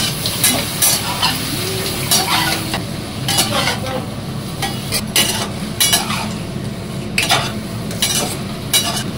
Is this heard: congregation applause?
no